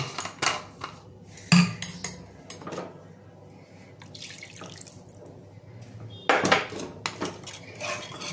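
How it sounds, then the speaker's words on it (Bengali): A bowl is rinsed under a running tap and the water poured into a pan of katla fish curry, with clattering dishware, splashing and running water in close bursts, no talking. "বাটিটা ধুয়ে একটু জল দেবো মাছগুলো সেদ্ধ হওয়ার জন্য"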